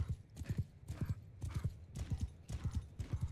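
Horses' hooves clip-clop in a steady rhythmic trot during a video game battle, repeated clusters of hoof beats close and clear with no speech.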